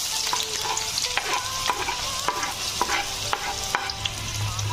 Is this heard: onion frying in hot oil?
yes